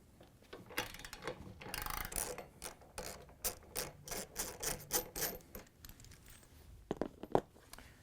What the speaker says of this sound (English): Next we can remove the 17mm bolt that holds this assembly on.